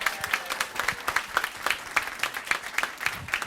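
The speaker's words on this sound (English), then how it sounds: "Everybody round of applause for Camellia Adams" A crowd claps for a trumpet player at a school board meeting, dense and steady applause with individual claps ticking through in a quick, even rhythm throughout.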